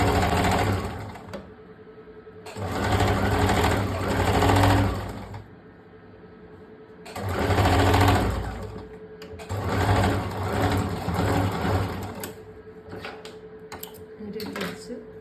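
A sewing machine stitches a princess cut blouse in several loud bursts of rapid whirring, separated by short pauses, with the motor starting and stopping close by and a voice speaking briefly between runs.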